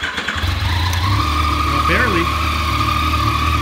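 An FJ-09 motorcycle that has not been run for a while starts and settles into a steady, close idle, with a brief spoken word over the engine.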